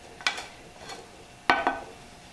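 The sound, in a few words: stirring risotto in a pot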